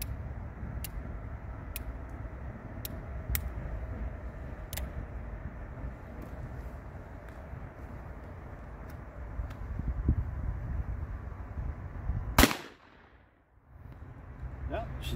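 A single loud, sharp gunshot from a light factory-load .38 Special cartridge at an outdoor range, cracking near the end after a stretch of low ambient noise with faint ticks.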